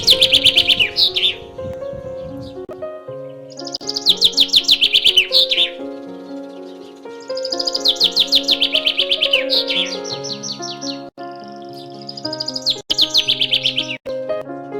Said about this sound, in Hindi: जहां सवेरे सवेरे चिड़ियों की मधुर आवाज कानों में गूंजती है